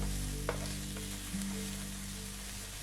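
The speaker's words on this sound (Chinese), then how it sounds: "另外起锅放入橄榄油，把切粒的洋葱、蘑菇和土豆放入拌炒。" Diced onion, mushrooms and potatoes stir-frying in olive oil, a steady sizzle over a constant low hum with a couple of soft spatula taps.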